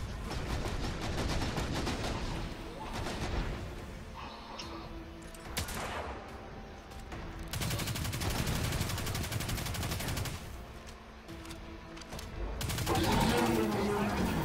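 Video game weapons including a shotgun and a Risk Runner fire in dense, rapid bursts, with loud, continuous automatic-style gunfire and heavy blasts nearly throughout and brief lulls in between.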